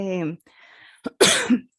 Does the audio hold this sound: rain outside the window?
no